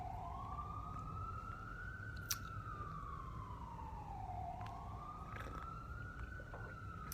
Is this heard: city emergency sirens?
yes